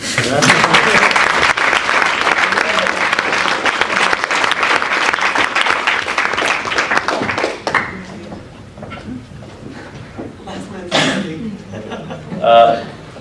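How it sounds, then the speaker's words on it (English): At a Model UN closing ceremony, the audience breaks into loud, dense applause for delegates receiving certificates. After roughly eight seconds it fades into scattered claps, chuckles and murmured voices. "One round of applause."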